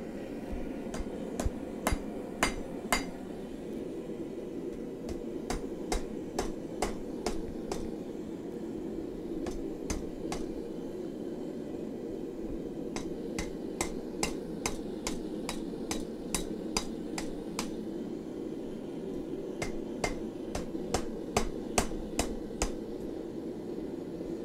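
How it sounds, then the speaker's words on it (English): A hammer driving a chisel into a steel railroad spike while making bottle openers, sharp metallic strikes in quick clusters of several blows with short pauses between, close and ringing over a steady background hum. "So I drove the chisel in a little off center."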